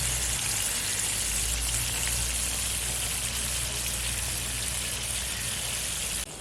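Chicken drumsticks coated in masala fry in hot oil at medium heat, a dense, continuous bubbling sizzle, close and steady, with no voices over it.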